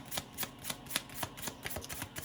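A deck of tarot cards is shuffled in a quick, regular riffle of soft slaps and flutters, close and fairly quiet, with no talking.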